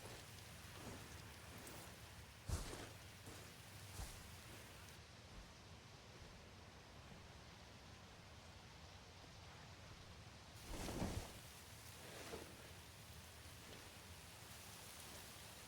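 Acid rain falls at a barrier in the video game Elden Ring Nightreign: a steady hiss of rainfall with a few sharp bursts and low rumbles, all at low level and without speech.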